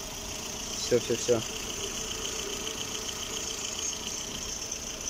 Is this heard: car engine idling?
yes